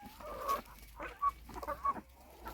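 Desi-type farm hens clucking nearby, a few short separate clucks spread over a couple of seconds against a quiet background.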